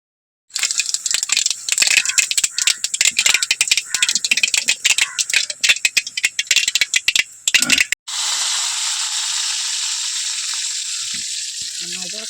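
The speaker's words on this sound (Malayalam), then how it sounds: "വെളിച്ചെണ്ണയിൽ കടുക് നല്ല പോലെ ഒന്ന് പൊടിച്ചെടുക്കുക." Mustard seeds crackle and pop in hot coconut oil, a dense, loud run of sharp spluttering bursts that gives way to a steady, even sizzle of frying oil.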